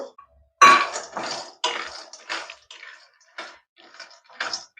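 Peanuts are tipped into a pan with oil, making a series of rattling, hissing bursts of kernels hitting metal, loud at first and then in shorter scattered pours.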